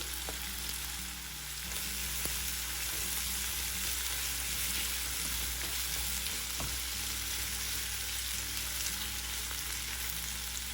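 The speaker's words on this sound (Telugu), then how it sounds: "ఉల్లిపాయలు వేగుతున్నప్పుడు 1 టీ స్పూన్ అల్లం చిన్నులపాయ పేస్ట్ వేసుకోండి" Onions fry with ginger-garlic paste in a pan, giving a continuous close sizzle with occasional light stirring taps, steady throughout and without speech.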